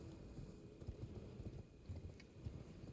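Horse hooves clip-clop in the video game Elden Ring, a steady, rhythmic run of soft thuds that continues through the whole stretch with no talking.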